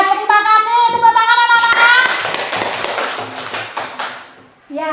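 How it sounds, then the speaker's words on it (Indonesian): Schoolchildren in an Indonesian primary classroom clap their hands in a lesson, a burst of loose, uneven claps mixed with young voices and a sung tone at the start, thinning out toward the end. "Tepuk tangan anak-anak."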